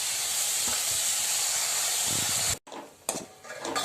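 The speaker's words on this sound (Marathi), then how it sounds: "छान परतून घ्यायचं आणि वरून ही धुतलेली मे मेथीची भाजी टाकून द्यायची" Washed fenugreek leaves hit a hot pan and sauté with a dense, continuous sizzle and hiss, broken by a sudden drop and followed by softer spitting and stirring crackles.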